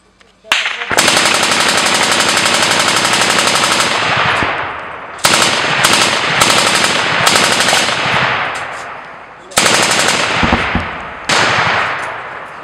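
Sustained bursts of automatic gunfire on a front line in Pisky, Ukraine, loud and close, in several long volleys separated by brief pauses, with occasional clanging.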